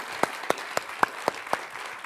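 A Hindi TV debate show's studio audience claps to welcome guests Madan Lal and Colonel Rohit Dev: sharp, evenly spaced claps about a quarter second apart, steady and moderately loud, with no talking over them.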